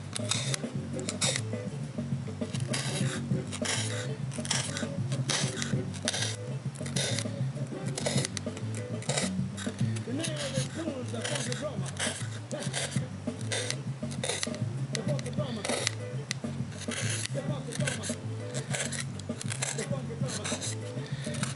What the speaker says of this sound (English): I'm going to go through and do the same thing with the horizontal lines. Open them up with the knife.